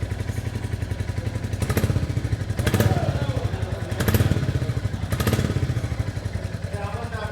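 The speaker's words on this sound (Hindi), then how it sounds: "लेकिन इसका जो साउंड है वो भी मैं आपको सुना देता हूँ कैसा है। अभी ये आइडल कंडीशन में है।" A single-cylinder 2025 Royal Enfield Bullet 350 Battalion Black engine idles close by with a steady low thumping beat, and a few louder mechanical clatters punctuate the rhythm.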